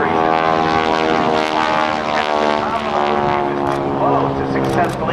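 A propeller aerobatic airplane flown by Bill Leff performs a Cuban 8 at the NAS Oceana airshow, its engine a loud, steady droning buzz with strong harmonic tones that rise and shift slightly as it goes over the top.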